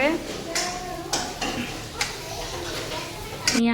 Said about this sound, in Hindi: वो बर्तन धुल धुल के दे रही है काम कर करके